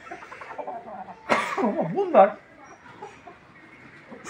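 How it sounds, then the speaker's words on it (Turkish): Roosters give a brief, wavering clucking call at close range, rising and falling in pitch, while someone speaks around it. "ne horozlarım var."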